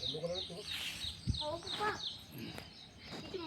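Sparrows chirp in quick, repeated bursts close by on farmland, while a person talks over them.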